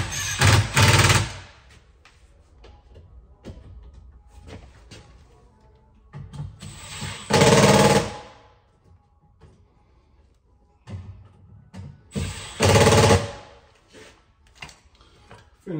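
Power tool set to its lowest torque setting tightening bolts, giving three loud, close bursts of rapid ratcheting hammering, each about a second long, separated by quieter pauses with faint mechanical clicks.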